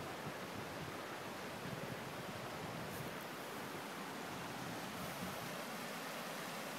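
Water flowing steadily at the Horton Creek headwaters, a small clear stream near Horton Springs in Arizona, gives a continuous broadband rush with no breaks and no voices.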